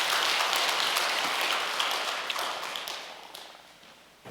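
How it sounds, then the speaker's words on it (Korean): Applause from a congregation at a religious blessing ceremony, a dense wash of clapping that starts full and gradually tapers off toward the end. "감사의 박수를 한번"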